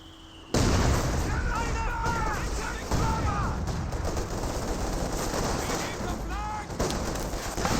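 Frag grenade blasts and gunfire in the video game Company of Heroes: sudden loud onset into dense battle noise with repeated shots and bursts, whistling projectiles and a sharp explosion near the end.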